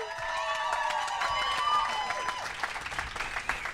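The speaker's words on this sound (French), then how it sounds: "On l'applaudit." A podcast audience applauds a guest with a brief burst of clapping and faint cheering, fairly quiet with a bright tone ringing near the start.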